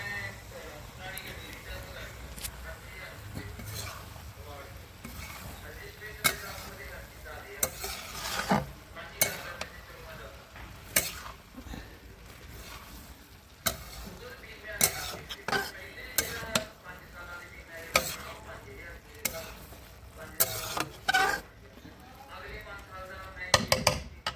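Potato and green chickpea bhurji sizzles in a pan while a utensil scrapes and clinks against it in repeated stirring strokes, with someone talking over the frying.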